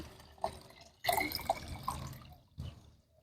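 Water poured into a small mug of kitchen waste, a few separate splashing and trickling bursts with short quiet gaps, close and fairly faint.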